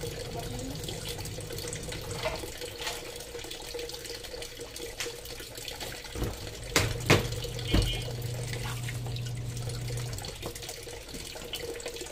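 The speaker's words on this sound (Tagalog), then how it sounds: "Dagdagan ko ng tubig." Tap water runs steadily into a container in a small bathroom at home, a continuous close wash of sound with a few clunks partway through and no talking.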